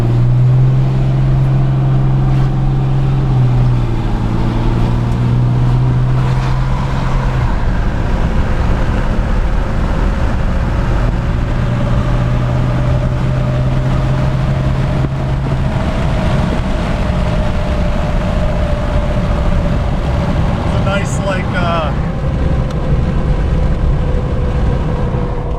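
A 2013 Ram 3500 diesel pickup with its emissions equipment deleted accelerating hard on a road, a steady loud engine drone rising in pitch over heavy road and tire roar, heard from inside the cab with no talking.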